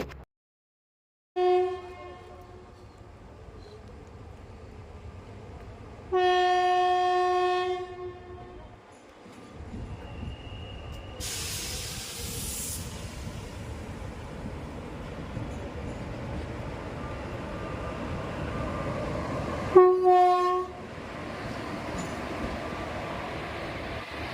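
A train at a railway station sounds repeated loud tonal horn blasts, separated by stretches of rumbling rail noise and a bright hissing burst, the horns coming in a clear staggered sequence over a steady background.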